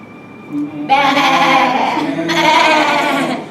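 Voices imitate sheep bleating, two drawn-out wavering "baa" calls, loud and close, after a brief quieter sound.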